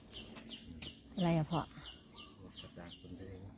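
Chickens cluck softly and irregularly around a rural home while close voices talk over them and one louder call rises briefly near the middle.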